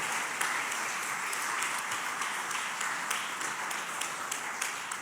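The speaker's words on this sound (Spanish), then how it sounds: "Dale palmas al Señor." A church congregation claps continuously, a dense even wash of many hands with faint rhythmic accents throughout.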